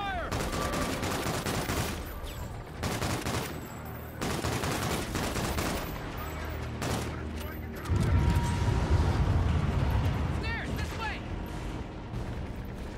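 Heavy video game gunfire in Call of Duty: Infinite Warfare, sustained bursts and blasts filling the space with a deep rumbling surge partway through, voices speaking now and then amid the shooting.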